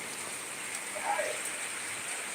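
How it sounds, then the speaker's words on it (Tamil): Steady rain falling outside, heard from indoors through a window, a constant soft hiss of drops on surfaces, fairly close and even throughout. "மழை பிசுறு கிளப்புதுங்க"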